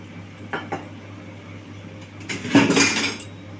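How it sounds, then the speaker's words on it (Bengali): Sugar and water go into a wok for syrup: a couple of light clinks, then a louder scraping pour and sizzle of granules hitting metal, close by, with no speech. "চিনিটা আমি দিয়ে দেবো কড়াতে দিয়ে চিনির একটা সিরা বানিয়ে নেবো"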